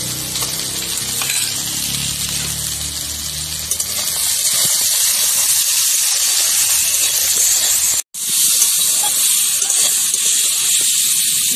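Spices frying in a pan for hog plum chutney, a loud steady sizzle that dies down briefly and then turns into a harsher, brighter hiss, close by and without talk.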